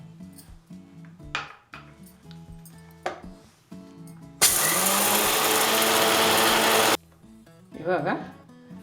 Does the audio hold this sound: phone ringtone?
no